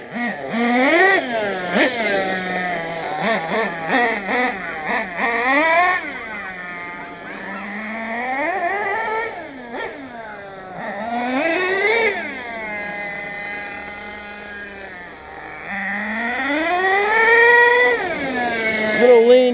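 A nitro RC car engine revs up and down in a series of rising and falling whines, with short choppy blips early on and longer sweeping revs later, loud and close.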